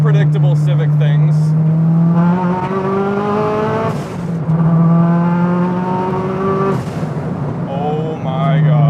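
A big-turbo Honda Civic hatchback, a street-legal build, pulls hard from inside the car, its engine note climbing steeply through the gears with brief dips at the shifts, loud and constant with some talk beneath it.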